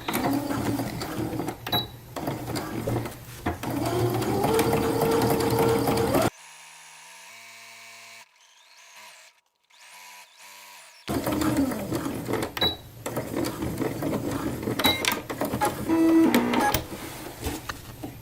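A sewing machine stitches a 1/2 inch bag seam at 2.5 stitch length with the needle set far left, running in two loud bursts of steady motor whir separated by a quiet pause.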